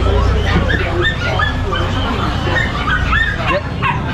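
Doberman guard dogs, including a red rust Doberman, yip and bark repeatedly at a short distance while a crowd of people murmurs around them. The background hum stays steady throughout.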